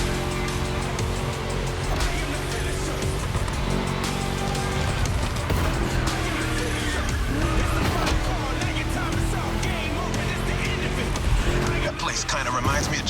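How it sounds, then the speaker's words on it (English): A V8 car engine races in the video game The Crew Motorfest, a constant loud rumbling roar with shifting revs and squealing tires, while someone talks over it. "Just listen to that V8 like a chunky, down-tuned guitar riff."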